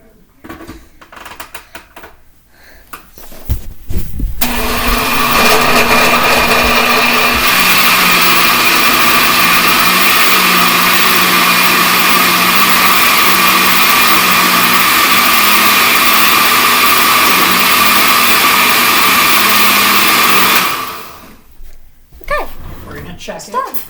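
A blender making a smoothie roars with a loud, steady whirring motor for about fifteen seconds, then cuts off abruptly, with brief talking and handling noises before and after.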